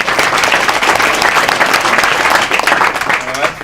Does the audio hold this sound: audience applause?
yes